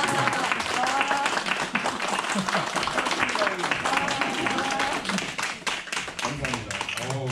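An audience at a workshop claps for several seconds, dense and sustained, while voices carry faintly underneath.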